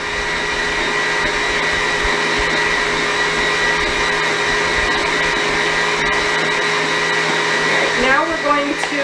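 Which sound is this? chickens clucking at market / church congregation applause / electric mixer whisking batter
electric mixer whisking batter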